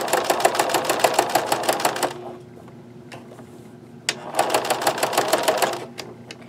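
Sewing machine stitching denim: two bursts of rapid, rhythmic mechanical clatter, close and loud, separated by a short quiet pause with a few faint clicks.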